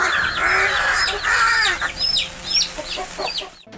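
A hen clucks loudly and steadily at close range, with repeated sharp calls from other farm fowl mixed in, before the sound cuts off abruptly.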